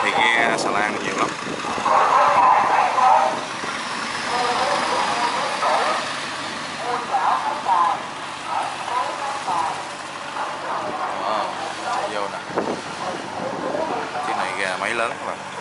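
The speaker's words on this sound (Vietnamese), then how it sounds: "Máy lớn các bạn." A large river barge engine runs at a low, steady drone near a low bridge at a river junction, while people talk over it almost throughout.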